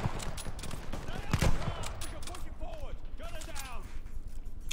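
Machine gun fire in the Call of Duty Vanguard campaign, a burst of loud crackling shots amid battlefield noise, with a player talking over the game sound.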